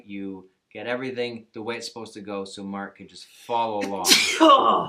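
A person sneezes once, loud and sharp, near the end, right after a stretch of steady talking.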